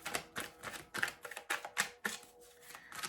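Tarot cards are shuffled in a quick, rhythmic series of crisp riffling bursts, close and fairly soft, repeating roughly every quarter second with no talk.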